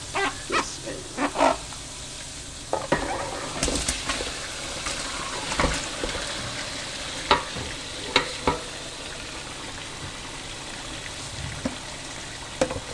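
Marinated chicken fries with masala in a pan for degi tikka masala pulao, a constant sizzle broken by intermittent scraping stirs and clinks, close and moderately loud.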